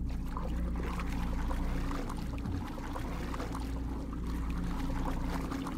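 Water sloshes and splashes continuously while a character swims underwater in the online video game DDO, a steady murky wash with a low hum beneath and no talk.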